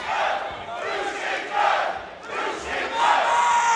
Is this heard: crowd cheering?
yes